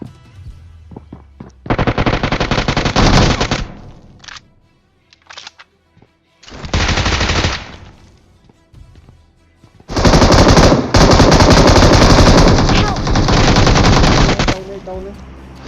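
Gunfire in the mobile battle royale game BGMI comes as loud, close automatic bursts, sustained for a second or more each, separated by quieter pauses with a few scattered single shots.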